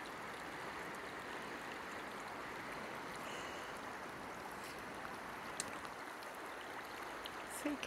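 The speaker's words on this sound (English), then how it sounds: "that is a very full River Tees at Gameford" The River Tees rushes past in full spate at Gainford in autumn, a dense, steady roar of water that fills the scene with no breaks.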